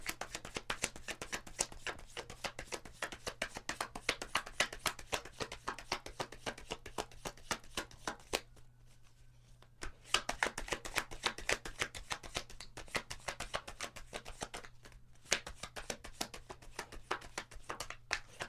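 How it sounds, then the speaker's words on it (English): Tarot cards are shuffled continuously in a rapid riffling patter of soft slaps and flicks, close and fairly quiet, with a brief pause partway through before the shuffling resumes. "even I feel like I'm having a hard time shuffling"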